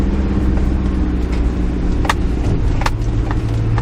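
A 4WD with aired-down tyres drives along Briggs Track, a bush track at the back of Neerim South, giving a loud, steady engine drone and road rumble close by, with a few brief knocks and rattles and no talking.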